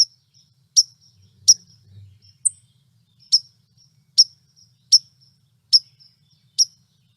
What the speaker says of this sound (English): Let's listen to white-throated.